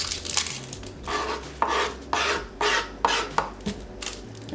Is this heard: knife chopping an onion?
yes